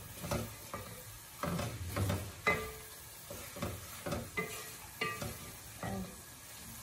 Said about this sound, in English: And mix all the powders together. And fry for a few minutes.